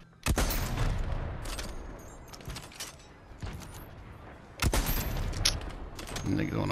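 Sniper rifle gunfire in a multiplayer shooter video game, two sharp loud cracks a few seconds apart with lighter mechanical clicks and distant shots between, near and punchy.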